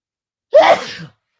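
A single sharp sneeze, close and loud, bursting out of silence and fading within half a second.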